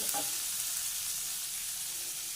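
Beetroot stir-frying in a pan for a beetroot mezhukkupuratti, a soft, steady sizzle with a faint clink near the start, quiet and close with no voices.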